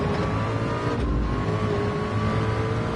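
Race cars lapping Le Mans at night in a VR racing game, a steady loud engine drone with tonal whine sustained throughout, no talk.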